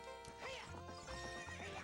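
A horse whinnies loudly in The Legend of Zelda: Ocarina of Time during horse racing, with rhythmic galloping hoofbeats underneath, close and continuous.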